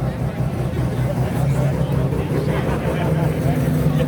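Cars roll in and out at a nighttime car show, a low rumble of engines and tyres under a background murmur of crowd chatter.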